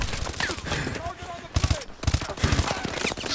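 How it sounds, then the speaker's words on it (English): Bursts of sniper and automatic gunfire in Call of Duty: Advanced Warfare on the Kremlin map, dense rattling volleys in clusters with overlapping game effects, while a voice talks over them. "Yep, that guy's sniping at me."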